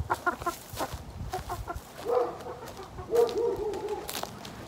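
A hen clucks and squawks in short agitated bursts, close up, with rustling and handling noises between the calls.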